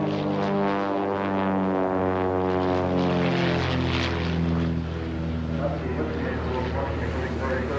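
Pitts Special propeller aircraft taxiing along a taxiway at an air show, a steady loud engine drone with harmonic hum throughout, with voices faintly underneath.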